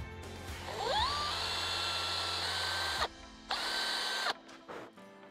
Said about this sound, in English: we're gonna pre-drill that.